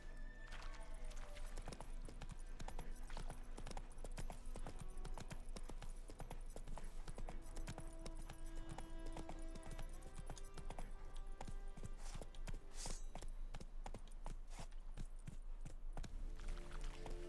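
Horse hooves clip-clop steadily and rapidly at a trot in a video game, a continuous rhythmic patter that stays fairly quiet and even over a game soundscape.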